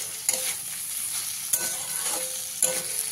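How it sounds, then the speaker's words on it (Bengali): Vegetables sizzling in a pan after being uncovered, with a continuous bright hiss and three distinct scraping stirs spaced about a second apart, close and clear. "ভালো করে একবার মিশিয়ে দেবো"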